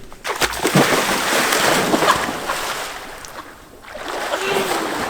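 A person jumps into open water, landing with a loud, close splash followed by sloshing and churning water over several seconds, with faint voices in the background.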